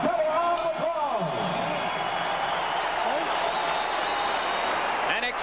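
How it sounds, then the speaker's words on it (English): A boxing arena crowd applauds and cheers between the final rounds of a heavyweight bout, a dense, loud wash of clapping and roaring that runs continuously, with a few brief whistles over it. "The entire arena on its feet, cheering, stomping, and applauding both fighters."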